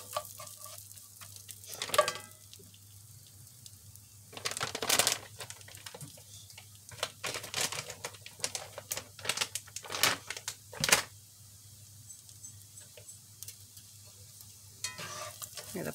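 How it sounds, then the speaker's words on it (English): Bacon crumbles frying in a pan alongside pork chops, giving a steady close sizzle with bursts of crackling pops and stirring clatter throughout. "I'm gonna throw in about a handful of these bacon crumbles. Let those get get good and warmed up."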